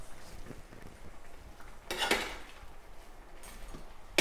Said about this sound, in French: On ajoute les crevettes et on les laisse cuire avant de mettre les échalotes.